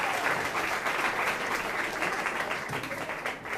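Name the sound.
audience applause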